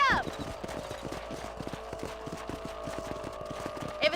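In Red Dead Redemption 2, a horse gallops along at a steady, fast beat, its hoofbeats close and even throughout, with a short high cry at the start and again near the end.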